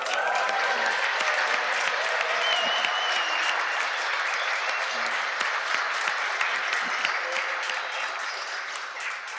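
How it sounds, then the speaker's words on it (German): Sustained applause from a large audience at a German-language religious talk, dense steady clapping filling the whole stretch and easing slightly toward the end, with no voices over it. "Komm, wir geben dem Herrn einen Applaus."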